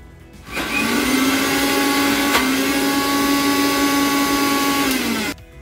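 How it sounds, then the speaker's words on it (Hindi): A kitchen mixer grinder whirs steadily as it grinds a vegetable and spice mix for shami kebab, starting abruptly, holding a loud, even motor drone for about five seconds, then cutting off. "ग्राइंडर में डाल के इसे पीस लिया जाए"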